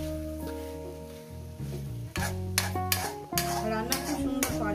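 Spicy crab curry being stirred in a pan, with scraping and clattering strokes of a spoon against the metal over a soft sizzle, coming in uneven bursts after a quieter opening.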